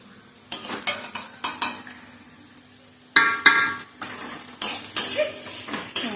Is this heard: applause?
no